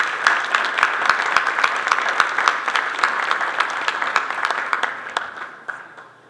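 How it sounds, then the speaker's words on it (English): Lively applause from a crowd at a construction industry expo awards presentation, with several sharp individual claps standing out over a full, steady patter that tapers off toward the end. "Another round of applause for Royal Floors"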